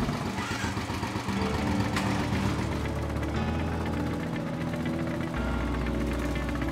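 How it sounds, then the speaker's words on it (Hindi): A Royal Enfield motorcycle engine runs steadily and loudly, with a low thumping rumble that carries through the whole stretch, close and with no other sounds over it. "The sound of the Royal Enfield,"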